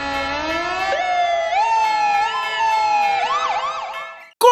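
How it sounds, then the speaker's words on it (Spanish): A fire truck siren wails loudly and steadily, rising and falling in pitch, then shifts into a quicker warble before an abrupt loud burst at the end. No voices accompany it. "Es mi querido compañero, el camión de los bomberos"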